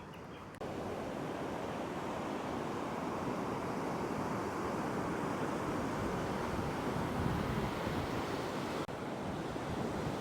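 Surf rolling onto Sunburnt Beach at sunrise, a steady, dense wash of breaking waves heard close and fairly loud throughout, with some wind noise on the microphone and no voices.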